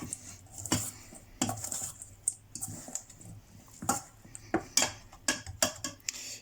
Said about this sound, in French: Et on mélange à nouveau.